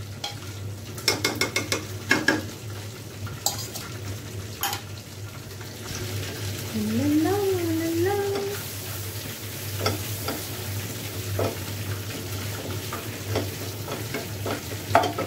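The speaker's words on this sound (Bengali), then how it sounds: "কমপ্লিট ডিমটি ভাজা।" An egg fries in melted butter in a pan, giving a soft, steady sizzle broken by scraping and stirring clicks of a utensil, fairly close and with no voices.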